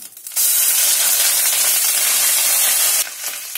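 Ginger paste hitting hot oil, with cinnamon and bay leaf already in the pan, for a vegetarian aloo dum: a sudden loud, bright sizzle that holds steady for under three seconds, then drops back to a quieter crackle.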